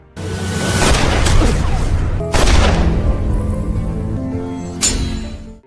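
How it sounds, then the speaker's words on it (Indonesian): Police gunfire in a gangster film scene: three loud, heavy booming shots spaced a couple of seconds apart, each with a long rumbling tail filling the space between. "Namun dari belakang tiba-tiba polisi muncul yang langsung menembak Chai."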